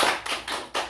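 Three or four soft, muffled claps at a church youth worship service, slightly uneven in timing, brief and fairly close, with no talking.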